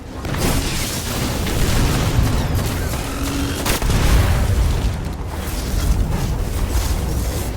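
Dense, sustained rumbling blasts and crackling gunfire from the video game Destiny, loud and continuous throughout with several heavier booms swelling in the middle.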